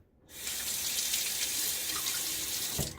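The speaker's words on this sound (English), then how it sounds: "when you rinse out your razor after a run" Steady rush of water from a tap running close by as a razor is rinsed, a continuous bright hiss that starts abruptly and holds for a few seconds.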